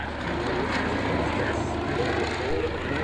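A Fairey Swordfish biplane running in for a flying display, its propeller engine a steady broad drone throughout, with a voice talking over it.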